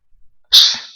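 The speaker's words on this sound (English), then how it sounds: "You start sneezing." A single sharp human sneeze bursts out after a second of near silence with faint breaths, loud and close, then tails off over the rest of the moment.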